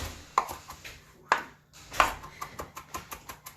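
Knife mincing a pile of parsley on a cutting board, a few sharp isolated chops followed by a quicker run of rhythmic, close chopping taps, fairly quiet with no talk.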